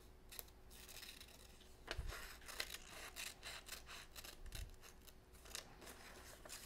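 Scissors snipping through paper while cutting out a shape, a quiet, close run of irregular crisp snips and rubbing, with two soft low thumps.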